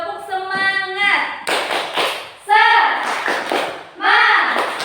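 Children in a classroom do the rhythmic 'tepuk semangat' clapping chant, bursts of quick claps mixed with loud, sung-out group voices and a teacher's prompt, close and lively.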